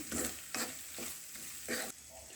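Okra and tomato curry with spices and salt being stirred in a pan, four scraping sweeps of the spoon with a steady sizzle underneath, close and clear, no talk.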